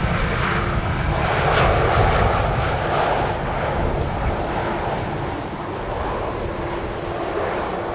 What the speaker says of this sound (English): EasyJet A320 Neorio coming in from London Stansted